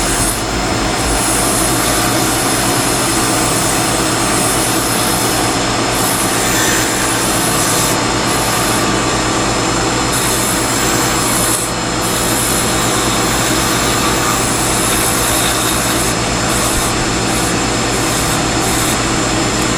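A round file rubbing against spinning wood on a lathe, a steady loud rasping and whirring hum that runs continuously without pause, with no talking.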